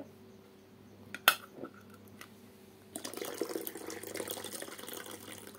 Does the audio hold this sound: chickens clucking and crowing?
no